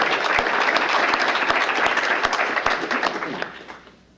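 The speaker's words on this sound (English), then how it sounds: "if we could just have a round of applause for them" A room of people applauds steadily, with individual claps standing out close by, before the clapping fades away.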